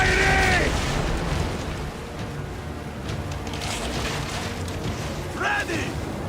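Weapons fire in Assassin's Creed Origins as a steady rumbling barrage of booms that rolls on for several seconds, with a louder burst near the start and another near the end, and shouted voices cutting in over it.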